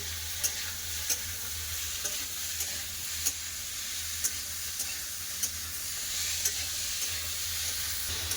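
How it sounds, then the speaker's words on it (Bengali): Prawns, potato and snake gourd stir-fried with salt in a hot pan: a steady, close sizzle with regular spatula scrapes and taps about once a second, with no talking. "দিয়ে দেবো আলু আর চিচিঙ্গা দিয়ে দেবো লবণ এবার সব ভালো করে একসাথে কষে নেব"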